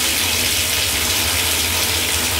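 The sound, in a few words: GROHE Grohtherm 1000 thermostatic mixer running fully hot water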